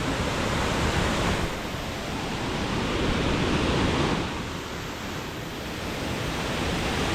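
Mae Ya waterfall in Thailand roars as a continuous, loud wash of falling water that swells and eases slightly, with no voices.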